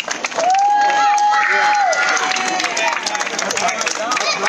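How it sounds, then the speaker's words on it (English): Applause and clapping at a youth singles tennis tournament final for ages 13 to 16, dense and steady from start to finish, with excited voices calling and cheering loudly over it. "Let's have a round of applause."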